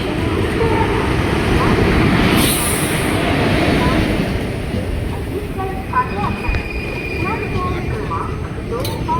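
The Teesta Torsa Express rumbles steadily on the rails, a loud continuous low roar of a running train with brief squeals and clatter near the end, under crowd noise and people talking.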